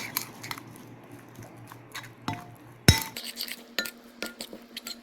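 Cauliflower florets and coriander leaves being mixed in a glass bowl, with sharp clinks and taps of a spoon against glass and a few louder knocks in close, irregular bursts.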